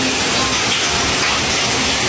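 Hail pours down in Ho Chi Minh City as a loud, dense, continuous hiss and clatter close by, with a voice faintly beneath.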